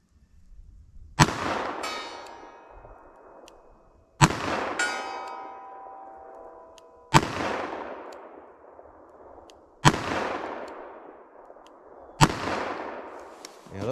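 Smith & Wesson Model 69 Combat Magnum .44 revolver fired outdoors: five sharp, loud shots spaced about three seconds apart, each with a ringing metallic tail and echo that decays before the next.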